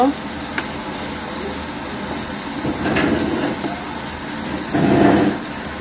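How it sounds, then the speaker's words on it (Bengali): Ground spices, including chili powder, cumin, coriander, turmeric and ginger powder, fry and sizzle in a pan for a potato and egg bhuna. The sizzling runs continuously, with a few brief louder stirring scrapes. "সব দিয়ে এখন নাড়া দিয়ে মশলা কষিয়ে নিব"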